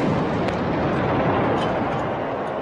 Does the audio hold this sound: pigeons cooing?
no